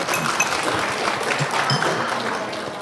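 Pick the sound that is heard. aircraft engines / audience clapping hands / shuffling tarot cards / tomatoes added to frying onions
audience clapping hands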